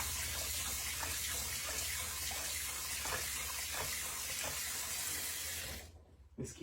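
Water runs steadily from a sink tap while a soapy brush scrubs, a constant close splashing rush that cuts off near the end.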